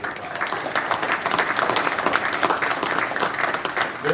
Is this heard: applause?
yes